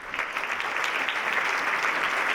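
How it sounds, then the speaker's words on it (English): A large audience at a county address claps in sustained, even applause, moderately loud and continuous with no talk over it. "Now that is worthy of your applause"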